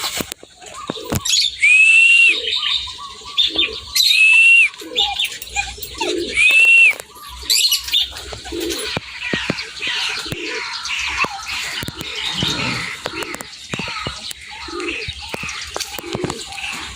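Young pigeons cooing on their first flight, repeated loud close coos in bursts with chirps and some wing flapping, while someone talks intermittently.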